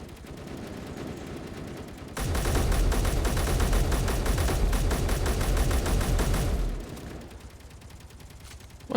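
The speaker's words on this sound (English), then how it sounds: "What are they shooting at?" Enemy gunfire in Space Engineers, a loud rapid automatic barrage of closely spaced shots lasting several seconds before stopping, framed by quieter ambient hum before and after.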